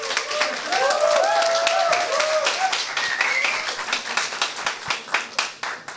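Church congregation at Toronto Connect Church applauding: dense, steady clapping from many hands close by, with faint voices early on, thinning toward the end into scattered individual claps that fade out.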